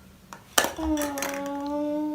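A toy kitchen pot and play food are handled, giving one sharp clink followed by a ringing metallic tone that sustains and slowly fades, close by with no talk.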